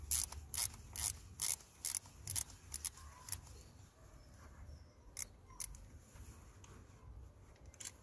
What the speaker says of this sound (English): So we are using a ratchet to take the screws off.